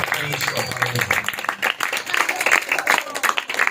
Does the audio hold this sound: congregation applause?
yes